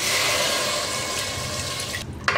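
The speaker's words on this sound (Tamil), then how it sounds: "இப்போ தண்ணி ஊற்றிக்கலாம்." Water is poured steadily into a cooking pan over goat trotters fried in oil for paya, a continuous close splashing stream that stops abruptly near the end.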